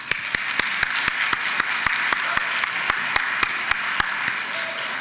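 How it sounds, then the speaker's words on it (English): At an APIDA recognition celebration, an audience applauds parents and supporters with a steady wash of clapping, punctuated by sharp, evenly spaced claps from one nearby pair of hands cutting through in a regular rhythm. "So why don't we all give them a round of applause."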